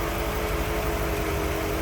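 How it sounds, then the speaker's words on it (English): A 1955 Ford Thunderbird's 292 V8 idles smoothly and evenly, heard close in the engine bay as a low, steady hum with no talking. "you hear how smooth that thing runs. Very smooth running on 292."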